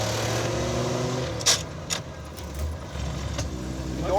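An off-road AMC Pacer with an NP435 transmission being driven, its engine a steady low drone inside the cabin, joined by a few brief rattles and jangles, close and fairly loud with no talking.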